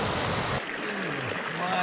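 Water rushes down a waterfall on the Kadunce River, a dense close hiss of churning flow that briefly drops in intensity, then continues steadily.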